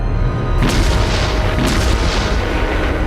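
Deep booming blast of a German K5 railway gun firing, loud and close, with a second heavy rumble following and a sustained low roar of wartime shelling.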